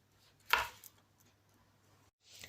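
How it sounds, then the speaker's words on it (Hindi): A knife cuts tomatoes on a cutting board in a quiet kitchen: one crisp chop stands out clearly, followed by a few faint taps. "सबसे पहले हम टमाटर को बारीक बारीक सा कट कर लेते हैं।"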